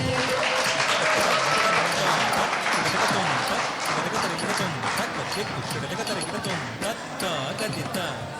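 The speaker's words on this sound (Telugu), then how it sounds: "మన స్పాన్సర్ అండి, గట్టిగా చప్పట్లు కొట్టాలి" Audience applause for a sponsor at a TACA Ugadi 2026 cultural event, dense clapping from a crowd that gradually thins toward the end, mixed with a loudspeaker voice talking over it.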